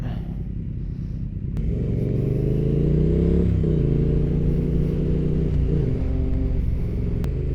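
A Triumph Street Twin motorcycle revs in a tunnel on a wet first ride, its engine rumbling loudly and rising in pitch as it accelerates, the drone echoing steadily throughout with no voices.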